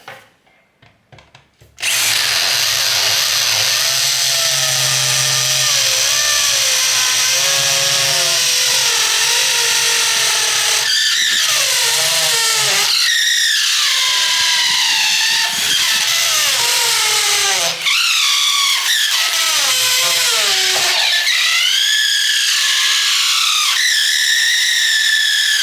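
A Black & Decker BDHD500 corded hammer drill runs in hammer mode, boring into soft brick filled with concrete: a loud, continuous rattling motor whine that rises and dips in pitch as the bit bites, with brief pauses between bursts.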